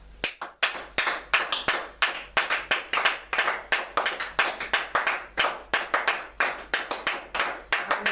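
A church congregation claps together at a Sunday service to acclaim the Lord, a steady, loud, rhythmic beat of many hands held for about eight seconds with no talking.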